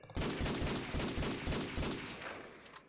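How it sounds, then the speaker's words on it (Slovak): Desert Eagle pistol in Call of Duty Modern Warfare 2, fired in a rapid, evenly spaced string of loud shots, each with a sharp crack and reverberant tail, alone without talk. "V reálnom živote by ste nedokázali tak strieľať rýchlo Desert Eagle."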